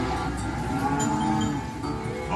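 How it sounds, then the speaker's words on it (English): A big herd of cattle on an Australian cattle drive lows continuously, many overlapping moos merging into a dense, loud bovine chorus with no talking. "Now this is the biggest flock of cows I have ever seen in my"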